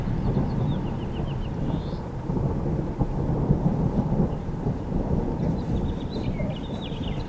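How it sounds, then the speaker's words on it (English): Thunder rolls during steady rain, a continuous low rumble with dense patter, while faint bird chirps come through in the background. "Do you hear the thunder? It's raining."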